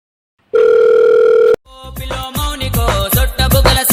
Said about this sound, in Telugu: ఫోన్ చేస్తున్నా.